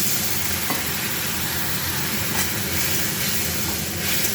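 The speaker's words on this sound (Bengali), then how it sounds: "নুন, হলুদ, জিরে গুঁড়ো, ধনে গুঁড়ো, লঙ্কা গুঁড়ো সব দিয়ে একটু কষাবো জল দিয়ে" Salt, turmeric, cumin powder, coriander powder and chili powder sauté with a splash of water in a pan, giving a loud, dense, unbroken hiss and sizzle close up, steady from start to finish with no talking.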